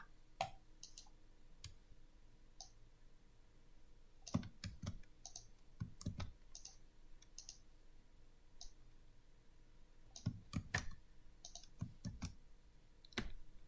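A computer mouse clicked on a screen in scattered pairs and short bursts, crisp and close but quiet, over a low steady hum, with no talking.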